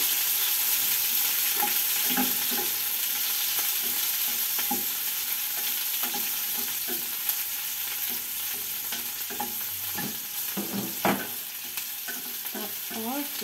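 Onion sautéing in a pan for pancit bihon sizzles steadily up close, broken by repeated scrapes and clinks of a utensil stirring.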